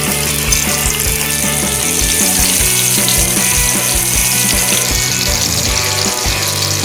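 Dried anchovies (nethili karuvadu) coated in masala fry in hot oil, giving a loud, continuous bubbling sizzle that stays close and steady throughout, with no talking.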